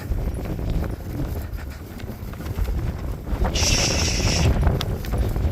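Horse hooves clopping steadily on the ground in winter, with wind noise and a brief hiss partway through; no talking.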